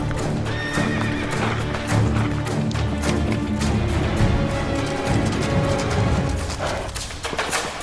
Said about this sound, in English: Revere has to sneak out of the city where he gets a horse and then rides to Lexington